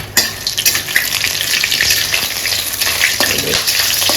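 Bay leaves and whole spices fry in a pan for a Bengali chicken masala curry, giving a steady, loud sizzle with scraping and stirring clatter throughout and no talking.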